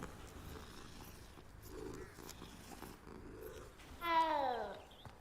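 Cat in the Hogwarts Legacy video game gives a short harmonic meow-like call near the end, rising clearly above a quiet game ambience.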